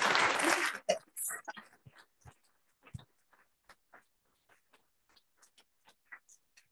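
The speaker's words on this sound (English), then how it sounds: "let's give Andrew a round of applause." Lecture audience at a public talk on animal rehabilitation breaks into a short, dense burst of applause that quickly thins to a few scattered, fading claps.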